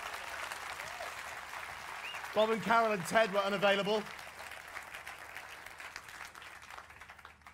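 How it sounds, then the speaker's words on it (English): Applause from a science-communication competition audience for the returning judges, a broad wash of clapping running throughout, briefly overlaid by someone speaking into a microphone midway. "Some applause, please, for Jim, George,"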